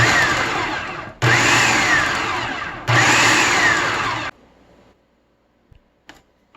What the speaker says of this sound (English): you're going to blend this with an immersion blender